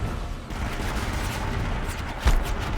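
Enemy rocket fire rumbles in Horizon Zero Dawn, a steady roar of distant blasts with one sharper thump near the end, loud and continuous without speech.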